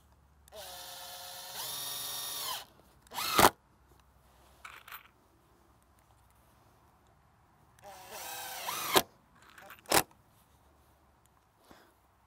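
Power drill driving screws to fasten hinges on a raised bed hoophouse, two long whirring bursts each ending in sharp knocks, separated by quiet pauses.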